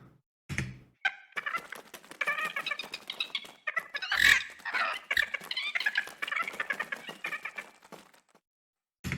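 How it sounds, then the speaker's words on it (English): Busy clucking and chattering of fowl-like birds, many rapid calls overlapping in a dense, lively stream, close and clear, ending in a brief silence. "here we have the birds at the end of the scene"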